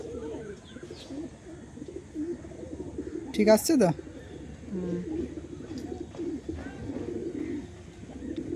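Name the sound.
pigeons cooing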